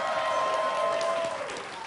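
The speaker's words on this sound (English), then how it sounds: "that was a cheap way to get some applause" A live studio audience at a televised quiz bowl finale at Rock Valley College applauds, a steady wash of clapping that holds for about a second and a half and then thins out, heard at a moderate distance.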